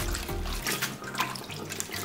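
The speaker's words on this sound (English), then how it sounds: "Rinse the cabbage twice in water and drain well." Water runs from a kitchen tap while napa cabbage for kimchi is rinsed, giving a soft, continuous splashing with small shifts as the leaves move under the stream. The sound is close and quiet, and no one talks.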